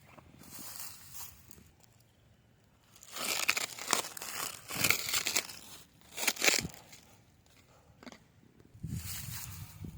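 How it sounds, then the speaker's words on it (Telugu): Packaging crinkles and rustles in bursts while a V6 submersible motor is unboxed, close handling noises rising and falling with quieter gaps between them. "ఇప్పుడు మోటార్ కూడా అన్బాక్సింగ్ చేసుకుందాం."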